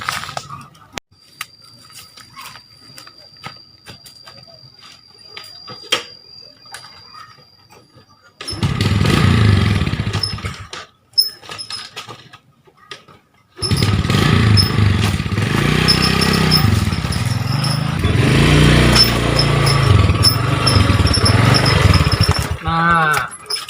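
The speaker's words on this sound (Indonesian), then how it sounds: "naik motor gue no" An old, shabby motorcycle engine rumbles and sputters close by in two long bursts, one short and one sustained, with quieter stretches of background noise and voices before it.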